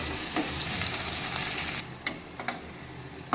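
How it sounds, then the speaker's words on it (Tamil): Tomatoes with salt sauté in a hot pan, giving a steady hissing sizzle that drops away partway through, broken by a few sharp scraping stirs of the spoon. Close and moderately loud, no voice. "தக்காளி வதங்குறதுக்கு நம்ம கொஞ்சம் உப்பு ஆட் பண்ணி நல்லா வதக்கிக்கலாம்"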